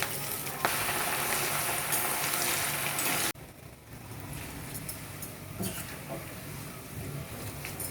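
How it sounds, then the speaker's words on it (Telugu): Garlic, curry leaves, dried red chillies, cumin and asafoetida sizzle in hot oil for a tempering, a dense close hiss that drops abruptly partway, then continues softer with scattered crackles, and speech is faintly present. "పోపు వేగిపోయింది"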